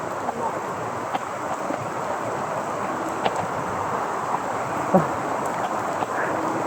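Heavy rain falls outside in front of a house at night. A dense, steady hiss of downpour runs throughout, with a few faint knocks and a brief muffled sound partway through.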